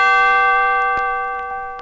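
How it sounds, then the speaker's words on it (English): A single bright bell-like chime from a 1979 Kid Stuff read-along book record, struck once loud and clear, then ringing with sustained tones that slowly fade, with a few faint clicks in the background. "Every time you hear this chime,"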